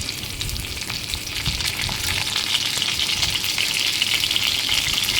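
Fish pieces frying in a kadai for a Telugu fish fry, a steady loud sizzle and crackle of hot oil that holds evenly throughout with no talking.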